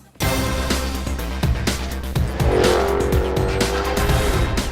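A Jaguar F-Type Coupe V8 R engine roars and revs hard, with tires squealing as it accelerates through gear changes, loud and close.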